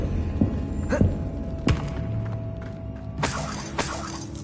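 A Confringo spell blast in Hogwarts Legacy shattering objects: a few sharp impacts and thuds, then a bright crashing shatter with debris scattering, moderately loud.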